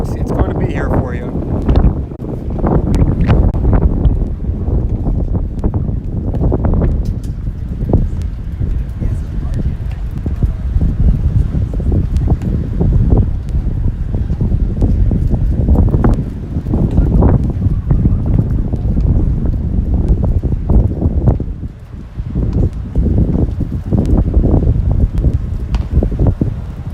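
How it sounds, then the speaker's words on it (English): Strong gusty wind roars steadily across an outdoor baseball field, a continuous broadband rush with buffeting swells, while people talk throughout. "No avoiding that wind, folks. It's going to be here for you."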